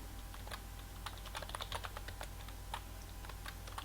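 Someone types a password on a computer keyboard: a quick run of light, close key clicks in an irregular rhythm over a low hum, without talking.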